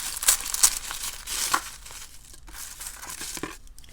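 Tissue paper is peeled off a bead subscription box, giving a few close, quiet crinkles and rustles over about four seconds.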